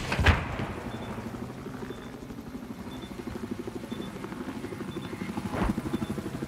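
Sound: helicopter in a video game

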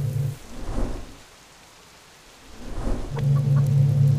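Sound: rain and thunder in video game Subsistence

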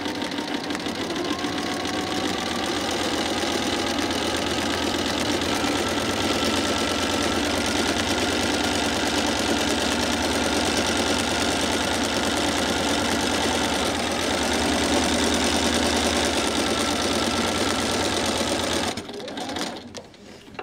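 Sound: sewing machine stitching a straight line

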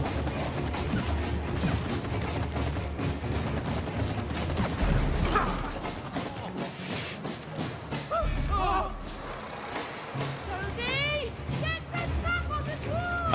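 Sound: gunfire in the video game It Takes Two

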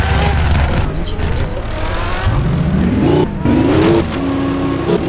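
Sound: car accelerating in Roblox video game

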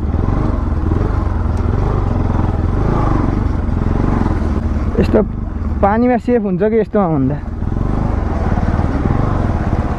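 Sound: motorcycle riding on an off-road track

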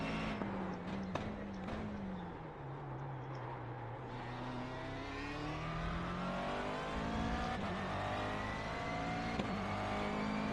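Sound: McLaren MP4-12c GT3 engine in iRacing video game

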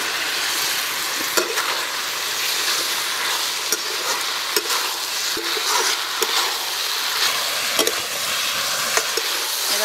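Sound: frying taro stems with spices

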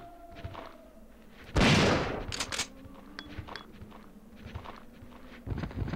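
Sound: gunshots in the video game Resident Evil 3

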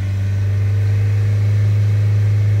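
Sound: Renault Trafic diesel engine revving up

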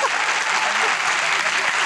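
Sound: studio audience applause

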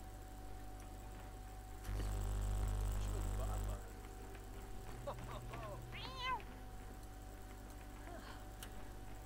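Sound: cat meowing in The Sims 4 video game

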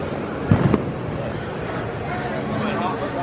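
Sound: fireworks in the background at EPCOT

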